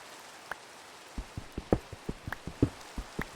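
Rain in the video game Minecraft, a sparse patter of separate drops landing at an irregular rhythm, fairly close and moderately loud, with no talk over it.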